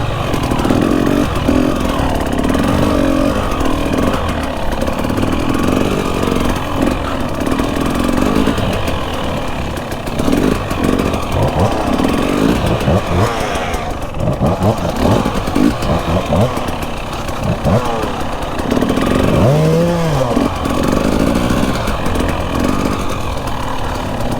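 Dirt bike engines drone and rev along a trail, with a constant buzzing engine noise throughout, shifting pitch as throttle changes, close and loud with no clear talk.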